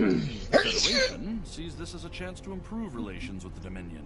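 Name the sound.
sneeze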